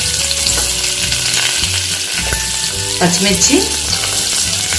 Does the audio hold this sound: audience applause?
no